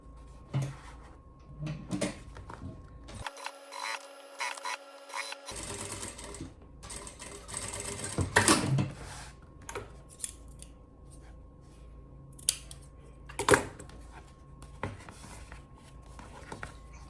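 Sewing machine stitching along a zipper edge while making a cosmetic bag, with close, bursty runs of rapid mechanical whirring broken by short pauses and handling clicks, and no talking.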